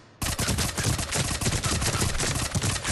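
The Tempest submachine gun in Mass Effect 3 fires on full auto, a loud, continuous stream of rapid shots that starts abruptly and keeps up without pause, no voice over it.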